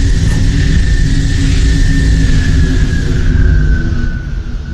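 Pelican dropship landing in Halo 3: ODST, a loud continuous engine roar with a deep rumble and a sustained high whine that eases off at the end.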